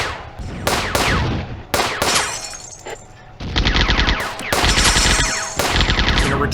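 Gunfire in the WW2 real-time strategy game Firefight comes as loud bursts of rifle and machine-gun shots with sharp cracks and brief pauses, repeating across the whole stretch.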